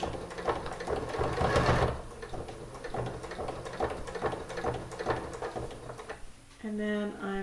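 A sewing machine backstitches alongside a corset busk, giving a close run of rapid, rattling stitches that slows into lighter ticking taps. A voice briefly joins near the end.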